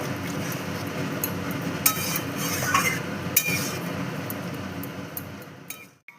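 A spoon stirs soybean and potato curry after water is added, with a soft bubbling simmer and a few sharp metallic clinks against the pot before the sound drops away at the end.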